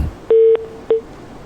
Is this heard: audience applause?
no